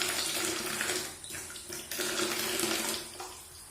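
Water running steadily from a tap to fill a bath, a soft, continuous splashing rush close by that dips briefly a couple of times but keeps flowing throughout.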